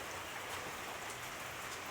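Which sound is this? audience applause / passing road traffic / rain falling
rain falling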